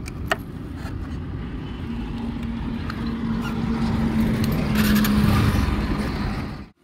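A Bajaj Pulsar NS motorcycle pulling away onto a highway, with a steady engine drone under rushing wind noise that gradually builds in loudness before cutting off abruptly.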